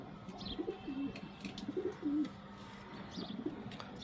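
Surkhi and Saleti Ferozepuri breeder female pigeons in Lahore give soft, close coos, several repeated over a few seconds, with faint chirps between them.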